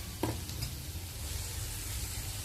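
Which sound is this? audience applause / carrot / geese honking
carrot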